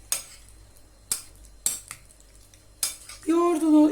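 A spoon clinks sharply against a bowl while stirring green beans with yogurt, four distinct close taps spaced unevenly, followed by a brief smoother scraping stir at the end.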